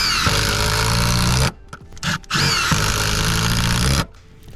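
A power tool drives lug bolts through a roof hook on a rooftop solar array install, two loud, steady whirring runs separated by short pauses and brief bursts of trigger pulls.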